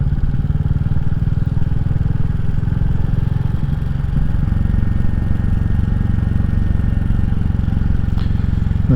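Royal Enfield Classic 350 single-cylinder motorcycle ridden down a steep zigzag road in Powys, Wales, its steady thumping exhaust loud and close throughout, with a brief dip in engine note midway.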